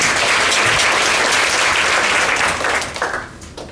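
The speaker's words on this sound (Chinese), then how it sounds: "让我们掌声来欢迎陈小光。" A conference audience at an open-source software event bursts into loud, sustained applause that welcomes a presenter, then thins out and fades toward the end.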